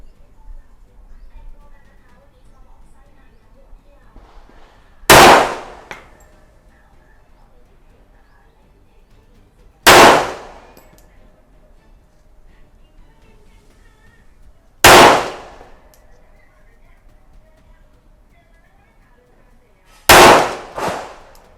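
Colt 1911 .45 Gold Cup National Match pistol firing 230-grain FMJ rounds: four loud, sharp single shots spaced about five seconds apart at an outdoor range, with quiet pauses between them.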